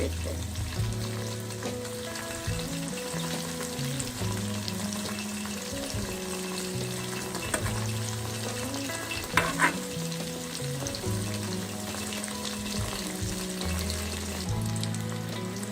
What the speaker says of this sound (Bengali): দেখবেন ভাজা হয়ে গেল মজাদার চিকেন পপকর্ন